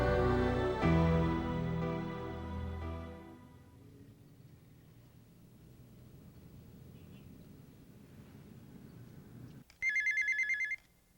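A telephone bell rings once in a short, bright burst near the end, following a fading musical passage and a stretch of low quiet rumble.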